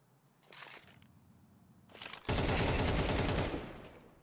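AK rifle gunfire in a Counter-Strike esports match, with two short bursts of rapid shots followed by a loud sustained volley of automatic fire lasting over a second, heard without talking.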